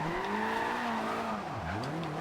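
A Toyota AE86 drift build in Forza Horizon 2 revs hard in fourth gear, a loud continuous engine whine that climbs steadily, dips briefly and rises again, heard alone.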